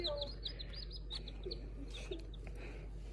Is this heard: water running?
no